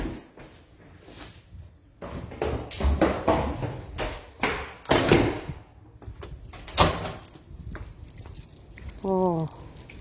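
A door pulled shut with a solid clunk amid a run of knocks, rattles and jangling keys, close by, with people talking throughout.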